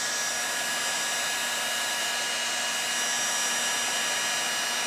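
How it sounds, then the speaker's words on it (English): A heat lamp melts encaustic wax into a wood surface, giving off a loud, steady, unbroken blowing roar like a hair dryer that runs the whole time without talk. "take the heat lamp and melt it, rub it in. It's pretty loud"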